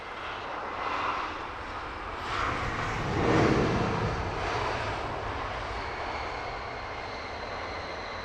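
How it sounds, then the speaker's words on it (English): A Virgin Atlantic Airbus A350-1000 arriving from New York JFK lands at Heathrow Airport, its jet engines roaring at a distance in a broad steady rumble that swells gently midway, heard with no talk. "Number 1 to land, Virgin 46, in from New York JFK, A350 1000"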